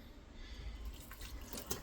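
Milk trickling and dripping into a bowl of fish cake mixture, a soft liquid pour heard faint and close over a low background.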